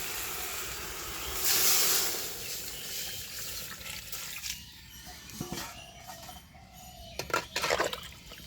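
Water poured into a hot cooking pot while preparing a sour curry of chalta and radish sets off a loud rushing hiss that gradually fades to a quieter bubbling simmer, with a few faint clinks later.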